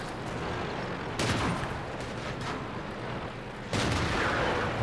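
Tank battle in World of Tanks with a KV-220 premium tank: heavy, muffled booms of gunfire and shell hits over a constant dense rumble, with two sharp loud impacts standing out, no talk.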